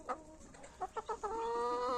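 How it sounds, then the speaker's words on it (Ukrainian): Chickens and a white rooster clucking on a Ukrainian farmstead, several short close clucks in a loose irregular rhythm, then a steadier drawn-out call. "І ось такий білий красивий півень."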